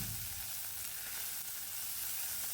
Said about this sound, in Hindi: अब हमने डाल दिया इसमें ग्रेट किया हुआ जिंजर, साथ में हरी मिर्च।